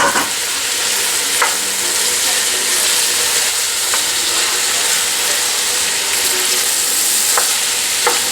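Onion sautés in a pan with a steady, close sizzle and hiss, broken by a few sharp scrapes and taps of a utensil stirring, no speech.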